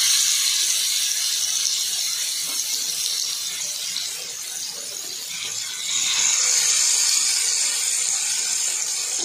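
Black pomfret coated in wet ground masala fries in hot oil, a steady, loud hissing sizzle that dips briefly midway and then swells back up.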